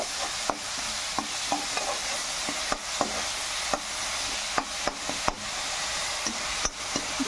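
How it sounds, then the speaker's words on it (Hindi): Onions frying toward dark brown in a pan for an aloo shimla mirch sabji, a steady broadband sizzle broken by repeated sharp scrapes and taps of a spoon stirring against the pan, close and alone. "इसको ब्राउन होने तक सेकेंगे"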